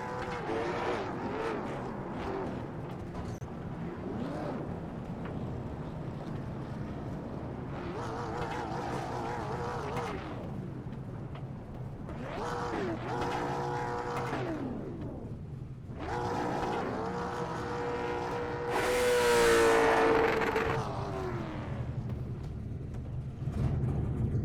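Late model race cars from an elite summer series circle an oval track, engine roars swelling and fading as they pass in waves, with a louder, harsher surge near the end.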